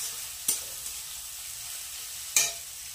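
Onion fries lightly in a pan with a steady hiss of oil, broken by two sharp crackling bursts about two seconds apart; the sound is close and moderately loud, and nobody talks.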